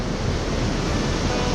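Bhagirathi river flowing past the ghat at Gangotri in the cold mountains, a steady, loud broadband rush of water, continuous and unbroken with no voices.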